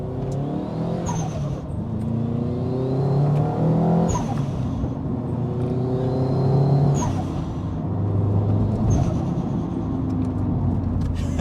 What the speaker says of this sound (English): the flutter back from the dump valve just sounds sweet